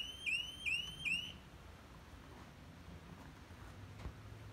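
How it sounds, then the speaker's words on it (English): A Dock Lifeguard electric shock detector on a dock gives three quick rising electronic beeps, evenly spaced and fairly faint, followed by quiet background. "we can see the dock lifeguard is emitting a tone and alarming."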